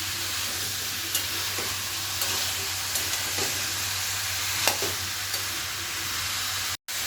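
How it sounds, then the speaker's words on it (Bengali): Papaya curry sizzles steadily in a pan as it is sautéed, a constant loud frying hiss broken by occasional scrapes of stirring. "আগে একটু কষিয়ে নিই"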